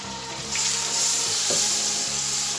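Coriander powder, red chili powder and turmeric cook into a paste in a hot pan, a steady close sizzle and frying hiss with faint stirring scrapes and no talk.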